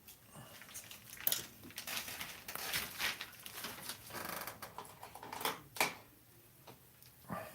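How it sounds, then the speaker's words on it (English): Transparent paint stirred in a small container, light irregular scraping and tapping clicks close by in a quiet room, with occasional louder knocks. "Just stirring the trans paint"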